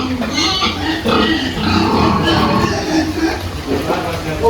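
Pigs grunt and oink steadily while feeding at a homemade automatic feeder, close and continuous with overlapping snorts and chewing noises.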